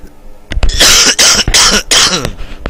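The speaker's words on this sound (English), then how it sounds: "every time I laugh it makes me cough" A man coughs hard several times in a row after laughing, loud and close, with short raspy bursts and gasps between them.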